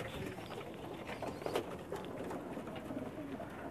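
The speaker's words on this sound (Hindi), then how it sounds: "ये मेरे लाखे कबूतर थे" Lakha pigeons on a rooftop loft in Pakistan coo steadily in a low, continuous murmur, several birds overlapping with no voices present.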